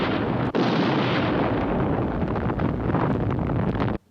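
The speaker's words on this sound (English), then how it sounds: "Ooh, that looked like the Death Star explosion." A spaceship explodes in the TV series Space: 1999 with a loud, sustained rumbling roar. It holds steady for about four seconds before cutting off abruptly.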